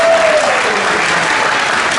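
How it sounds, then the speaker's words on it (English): Audience applause at a Stallions award ceremony, a dense steady roar of many hands clapping at close range for the full two seconds, with a faint tone gliding downward at the start. "Give a big round of applause."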